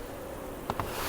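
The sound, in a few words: honey bees buzzing in hive top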